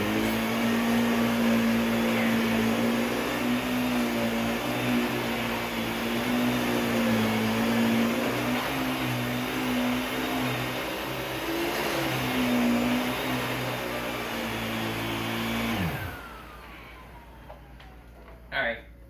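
A Filter Queen Majestic vacuum cleaner runs with a steady droning whine that shifts slightly in pitch as it is pushed, then winds down and stops near the end, with a voice talking over it.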